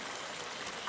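A small waterfall stream near High Force in Teesdale, County Durham, gives a soft, steady rush and trickle of flowing water, continuous and fairly quiet without voices.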